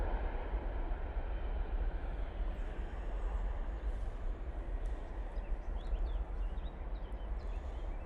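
A Ryanair airliner departing Manchester Airport makes a continuous low, rumbling engine roar heard from a distance, steady and broad throughout, with faint outdoor noise.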